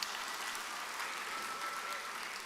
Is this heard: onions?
no